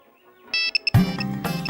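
Mobile phone ringtone from a Hindi-dubbed South Indian action film: short bright electronic beeps, then a louder melodic ring with a low musical bed underneath, sounding close and clear.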